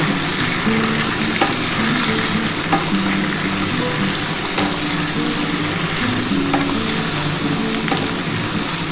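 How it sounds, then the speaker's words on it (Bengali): Ash gourd pieces frying in oil, a loud dense steady sizzle with occasional stirring scrapes, close up and continuous with no talking. "চাল কুমড়োটা খুব ভালো করে একটু ভেজে নেব"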